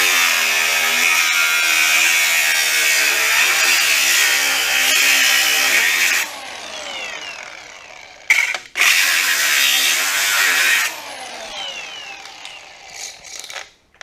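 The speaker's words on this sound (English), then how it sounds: "go in there and gouge as much of that weld or plug weld out of there as I can with a hard wheel" Angle grinder with a hard wheel gouging out a plug weld on a Little Giant elevator build, a loud continuous grinding whine for several seconds, then intermittent bursts as the wheel cuts in and out.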